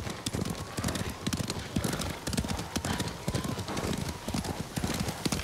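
Horses' hooves clip-clop steadily on the ground in the video game Ghost of Tsushima, a brisk repeating gait with an occasional whinny, close and continuous across the scene.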